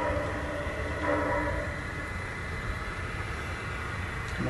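A garden railroad model train hauls a gondola out of a mine area outdoors, giving a steady rolling hum with faint rail clatter throughout.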